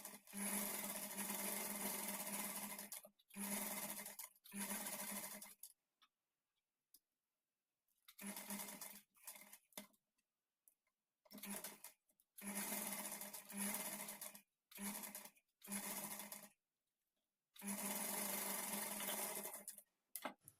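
An electric sewing machine stitches a folded blouse back-neck piece in repeated loud whirring runs of a few seconds each, broken by short pauses and quiet gaps, with no talk.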